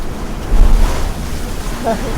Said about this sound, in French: il y a du vent en tout cas, plus de 30 nœuds